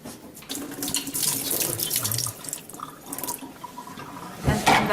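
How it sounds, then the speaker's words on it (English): Cold water poured over a kitchen fixture being koshered for Passover, a close, steady splashing rush that swells, eases midway and surges again at the end. "I just poured a little bit of cold water on top of this."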